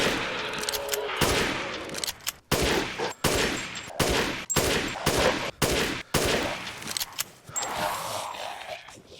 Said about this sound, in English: now let's test the F2 sniper rifle with full upgrades and parts